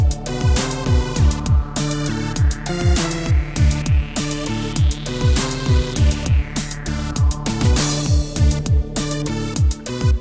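A Roland JD-Xi analog synth plays a repeating bass and drum pattern while its filter cutoff is swept, the tone brightening and then dulling again over a steady, loud, rhythmic groove.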